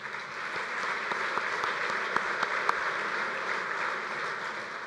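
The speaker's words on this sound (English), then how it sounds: "So please give our USBC Board of Directors a big hand." A meeting hall audience at a bowling association's annual convention gives a big hand to its board of directors: dense, steady applause from many people, fairly loud and sustained throughout, with scattered sharper claps standing out.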